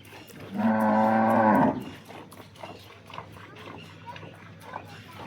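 A local Banaskantha cow gives one long, loud moo near the start, followed by quieter farmyard sounds and scattered low noises.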